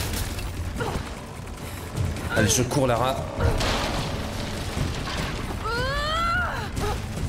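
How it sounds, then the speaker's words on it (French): Explosions and crashing debris in the Tomb Raider video game, deep booms and creaking rumbles in bursts under game character cries, with someone talking over it. "Parce qu'il y a tout qui pète."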